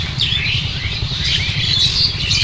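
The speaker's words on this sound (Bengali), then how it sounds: "খালি পাখি শব্দ আর কিছু নেই, তাই না?" Birds chirp and twitter continuously from the trees in a quiet spot, and the calls are fairly close and dense. A low rumble sits underneath, with no voices.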